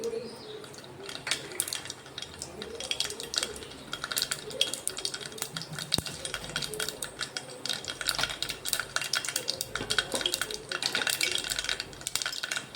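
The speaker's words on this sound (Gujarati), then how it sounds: "તો રાઈ તતડી ગઈ છે" Mustard seeds crackling in hot oil while tempering papdi goti vegetables, rapid irregular close pops and crackles over a soft sizzle with faint utensil clinks.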